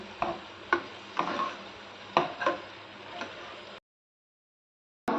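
A spoon scrapes and clinks against a pot of dal in a few quick irregular strokes as tempering is stirred in over a faint sizzle, then the sound cuts off.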